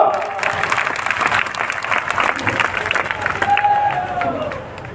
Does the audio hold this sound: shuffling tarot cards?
no